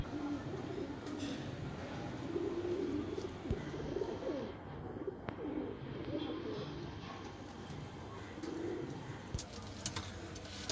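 Madradi pigeons coo softly and repeatedly in a loft, a low murmuring layer of calls running steadily throughout with a few sharper chirps rising above it.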